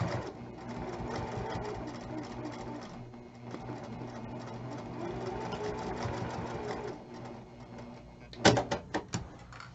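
A sewing machine runs slowly and steadily while stitching fabric, a continuous whirring hum with rhythmic needle ticks, followed near the end by a few louder clunks and clicks.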